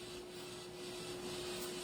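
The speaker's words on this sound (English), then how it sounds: "Got your trusty hairdryer." Steady broadband blowing of a handheld hairdryer, with an even whooshing roar and a faint constant motor whine, drying paint at a couples' painting party; it runs continuously and fairly close, with no talk over it.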